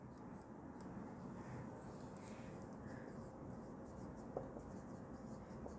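Pen or pencil scratching faintly on paper while an answer is written out by hand, with no talk and a steady background hiss and hum.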